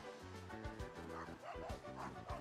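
A dog barks in Paper Mario: The Origami King, a run of several quick, close yipping barks with whimpery tones, repeated in short bursts over faint background game sound.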